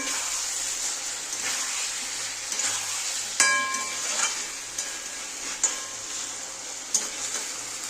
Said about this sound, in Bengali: ভালো করে কষিয়ে নিই, তারপরে ঝোল দিয়ে দেবো আমি।